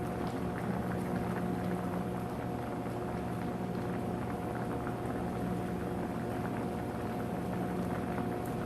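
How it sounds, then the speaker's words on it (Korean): Braised dried pollock simmers in an uncovered pot, a steady, dense bubbling and sizzling that goes on without a break under a constant low hum, with no talking. "이것도 뚜껑 열어놓고 졸이세요"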